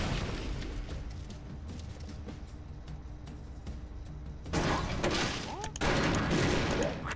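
Explosions from a tossed grenade in the Expendabros video game, two loud bursts in the later half following steady softer gunfire and clatter, with a voice talking faintly alongside.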